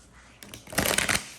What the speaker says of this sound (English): Now let me shuffle these properly.